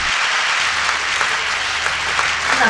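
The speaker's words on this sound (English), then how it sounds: "You can give a standing ovation to this icon with a round of applause" Steady, dense applause from an audience honoring a retired colonel at a tribute event, filling the room evenly from start to finish with no break.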